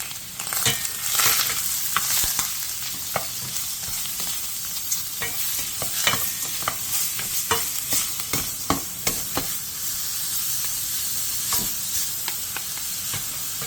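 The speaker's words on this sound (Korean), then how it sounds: "냄비에 참기름 1스푼을 두른 뒤 소고기 양지 300g과 다진 마늘 1스푼을 넣고" Beef brisket and minced garlic stir-fry over high heat in sesame oil in a pot, giving a constant close sizzle broken by frequent sharp scrapes and clicks of stirring.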